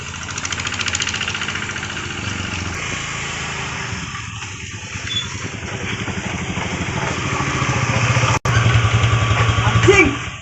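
A motorcycle engine idles nearby with a steady chugging rumble that rises toward the end, briefly cutting out before continuing, with voices talking over it in a comedic short film.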